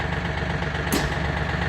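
Tractor fitted with a front-mounted swivel snow plow blade idling steadily nearby, a constant low engine drone with one brief higher burst midway.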